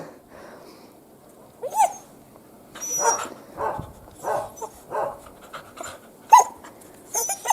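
A dog named Umka, out on a village walk, gives several short barks and yips spread across a few seconds, with soft panting and whimpers between them; the animal sounds close and moderately loud against a quiet rural background.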